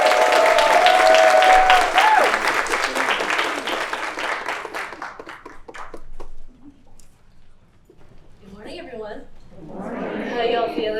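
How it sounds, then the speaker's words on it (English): An audience applauds Jenn Lim at a talk, the clapping strong at first and tapering off, with a whoop over it and voices heard as it fades. "please join me in a round of applause for Jenn Lim"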